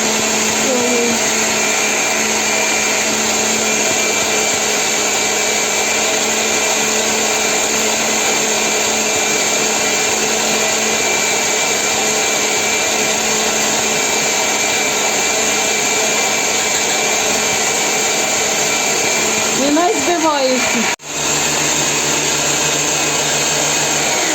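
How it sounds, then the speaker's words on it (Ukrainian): Electric mixer whipping egg whites with a pinch of salt and sugar for a prune layer cake, a steady loud whirring drone with no pauses that cuts off abruptly near the end. "Так, тепер додаємо щіпку солі і будемо збивати."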